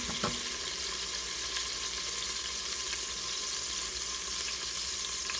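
Garlic sautéing in a pan for a low-carb chicken soup, a faint, even sizzle with one small knock near the start and no speech.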